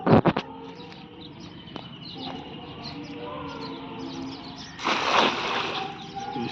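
Birds call faintly in the morning near a river where a cast net is being thrown for fishing, scattered chirps over steady outdoor ambience, with a few sharp knocks at the start and a louder rustling burst later.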